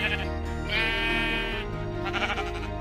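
Sheep bleat in Minecraft Pocket Edition, one long wavering bleat followed by shorter overlapping ones, loud and close, with no talk.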